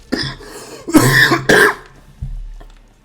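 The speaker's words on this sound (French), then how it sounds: "j'en ai marre de tousser pour rien" A person coughs several times in harsh throaty bursts, close and loud, with a brief pause and a final weaker cough.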